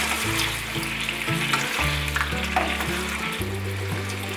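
Vegan tofu and mushroom balls cooking in a covered pan over low heat, a steady close sizzle and bubbling that runs without a break, loud and even, with a low background hum and no talk.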